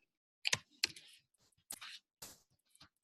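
Light clicks of computer keyboard typing into a headline field, coming in a few short, separate bursts at close range with quiet gaps between and no voices.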